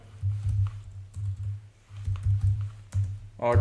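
Computer keyboard typing out an SQL query, with quick irregular bursts of keystrokes close up, with short pauses between runs and a sharper clatter at the end.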